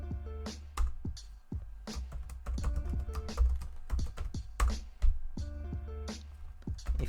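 Computer keyboard typing a Linux command, a quick irregular run of close, crisp key clicks and clacks with no talk.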